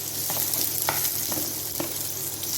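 Onion sautéing in a hot pan for a quick kuzhambu, a dense continuous sizzle with a few sharp spoon scrapes, close and fairly loud, no voices.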